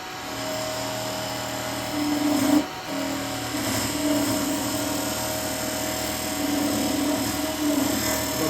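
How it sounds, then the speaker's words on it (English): A short-handled square chisel cuts end grain on a yew pot spinning on a wood lathe. A steady motor hum with high tonal whine carries through, with brief louder scraping bursts of the tool biting the wood. "Using some short handle chisels here for this"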